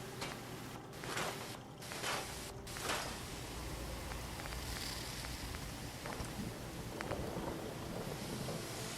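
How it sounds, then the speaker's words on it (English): Steady rain hisses throughout an outdoor scene in Fallout 4, with a few low rumbling swells of thunder and faint footsteps, and no talk. "Rain. It doesn't rust out my suit again."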